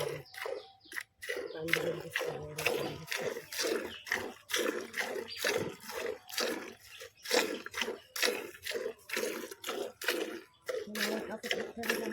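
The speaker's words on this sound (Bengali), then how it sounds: "আজকে কিন্তু দুধের আওয়াজটা বেশ ভালোই লাগছে" Milk squirts from a cow into a bucket during hand milking, a steady run of short hissing spurts repeating in quick rhythm, close by, with voices talking over parts of it.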